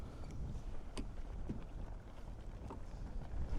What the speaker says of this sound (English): The wind's crazy right now.